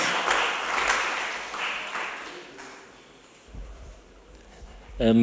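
Audience applause welcoming a university director at a staff policy summit, a few seconds of crowd clapping that fades away, followed by quieter room sounds and a brief voice at the end.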